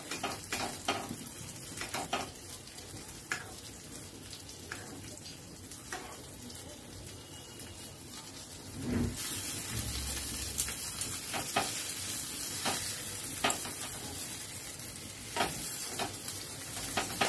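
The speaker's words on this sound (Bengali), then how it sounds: "এবার আমি একটা হাতা আর একটা খুন্তির সাহায্যে উলটপালট করে দিচ্ছি, এতে ওপর পোর্শনটা ভাজা হয়ে যায়।" Lachha paratha with peas frying in a pan, turned over with a ladle and spatula: continuous soft sizzling with intermittent scraping and clanks, growing louder and busier partway through.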